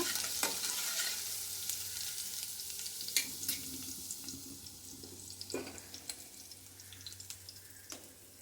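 Ginger-garlic paste fries in hot oil with a soft, continuous sizzle, punctuated by several sharp scrapes and taps of a spoon against the pan, fairly quiet and close.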